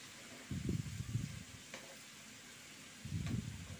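Shredded bottle gourd and carrot hit a hot pan in a home kitchen, giving two short bursts of low sizzling and stirring, separated by a quieter pause with a faint background hum.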